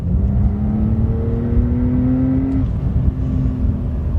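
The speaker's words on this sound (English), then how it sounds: "and the PDK, watch this." A Porsche 911 with the PDK gearbox in Sport Plus accelerates out of a turn, heard from inside the cabin as a loud, steady engine drone whose rising pitch drops at a shift midway, then climbs again.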